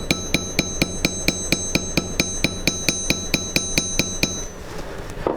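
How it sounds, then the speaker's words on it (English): A jewelry hammer planishes silver wire with a fast, even series of about eighteen sharp metallic taps, each one bright and ringing, before the blows stop. "Just start planishing on it and overlapping the hammer blows,"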